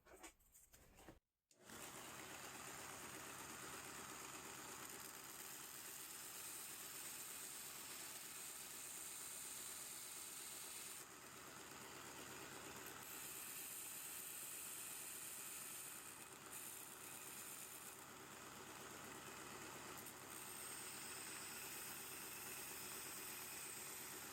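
A homemade belt sander runs while sharpening a metal fork, a steady motorized whir with a high grinding edge that shifts slightly as the fork is pressed, starting after a short pause and continuing close up.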